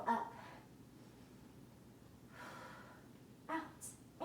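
Sharp breaths pushed out during an upper-body workout, several audible exhales spaced a second or two apart, fairly close and faint with no speech over them.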